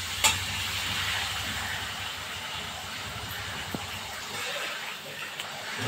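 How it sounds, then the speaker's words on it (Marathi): Sweet kadakani dough fries in hot oil over a lowered flame, making a steady, close bubbling sizzle throughout with occasional small pops and no talking. "तेल गरम झालं की गॅस जरा बारीक करून द्यायचा आहे, म्हणजे कडाकणी छान तळले जाईल"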